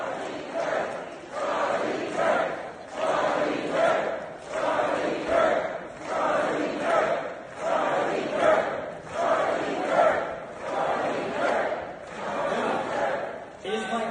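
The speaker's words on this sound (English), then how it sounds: "they get everyone to cheer Charlie Kirk" Crowd at a Turning Point event for Charlie Kirk at Berkeley, chanting in a steady rhythmic pulse of loud collective shouts that repeats about every one and a half seconds.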